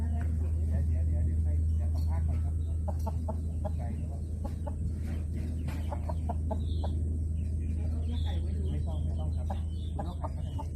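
Chickens kept in a cage give short, repeated clucks close by, over a steady low mechanical hum, while people talk.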